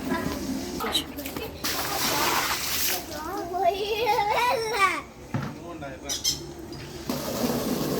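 Water splashes and pours up close, with a child crying and chattering loudly over it and other voices nearby.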